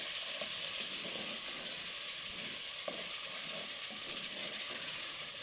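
Tomatoes fry in a pan for chickpea bhujia, a continuous, even sizzle and steamy hiss that holds steady throughout, close and moderately loud, with no talking.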